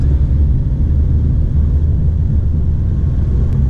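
A 2018 Shelby GT350 engine rumbles loudly and steadily from inside the cabin while driving, a deep low drone with no speech over it.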